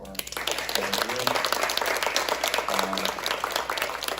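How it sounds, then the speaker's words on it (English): Applause from a conference audience after a panel discussion at a keynote event, steady broadband clapping throughout with some voices and cheers mixed in. "Round of applause for"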